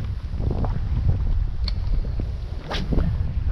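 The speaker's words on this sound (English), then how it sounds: "That wind is getting full on now." Strong wind buffets the microphone while fishing from a small boat on open water, a steady loud rumble with gusts and faint water movement throughout.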